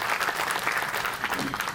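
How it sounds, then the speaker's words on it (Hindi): Audience applause at a membership event in a community gathering, steady dense clapping from a crowd lasting throughout, fairly close and even in loudness. "उनके लिए इस बार जोरदार तालियां"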